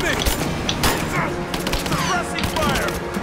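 Rapid gunfire crackles in dense, overlapping bursts in Rise of the Tomb Raider, amid a noisy, busy game mix, with voices talking underneath.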